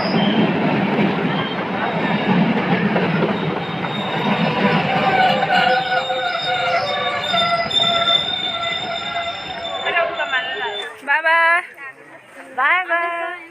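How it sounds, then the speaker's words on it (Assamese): The Tinsukia–Lumding train pulls into a station with a heavy, close rumble that gives way to long screeching brake squeals as it slows, and a voice speaks over it. "তিনিচুকীয়াটো লামডিং ট্ৰেইন আহিছে"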